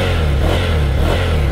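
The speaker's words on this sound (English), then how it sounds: "Let's get some exhaust sounds" A Ducati Scrambler motorcycle's stock exhaust revs loudly and up close, a steady throaty engine roar.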